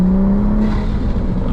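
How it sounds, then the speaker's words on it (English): Turbo flutter from a Toyota A90 Supra sports car: a loud, close, steady engine drone with a fluttering whir that fades a little toward the end, with no talk. "Oh, some turbo flutter?"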